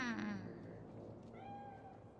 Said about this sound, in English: It's just a cat.